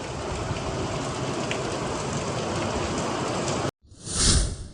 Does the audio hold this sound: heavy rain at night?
yes